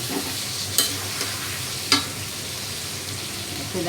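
A spoon stirs ginger-garlic paste in a frying pan over a steady sizzle, with two sharp scraping clinks of metal along the way.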